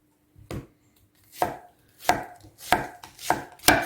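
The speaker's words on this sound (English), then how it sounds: "So I'm just going to continue cutting these onions until I have cut them all up." A knife chopping onions on a cutting board, six distinct close cuts spaced irregularly and coming faster toward the end, with no talking.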